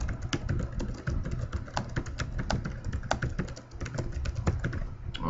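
Steady typing on a computer keyboard, a dense run of quick clicky keystrokes with uneven rhythm, close and fairly quiet, with no talking.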